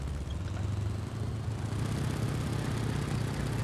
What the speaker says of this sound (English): Great engine sound, very well detailed